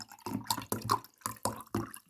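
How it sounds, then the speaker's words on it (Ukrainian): Cold water pours nearby in uneven gurgling bursts, splashing into a jar of carrot seeds several times in quick succession. "І ще раз заливаю холодною водою."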